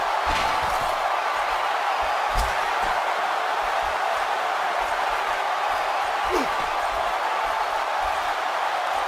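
Arena crowd in WWE 2K17 at a Sting vs The Undertaker Hell in a Cell match, heard as a constant loud roar of cheering with scattered thuds, and voices faintly underneath.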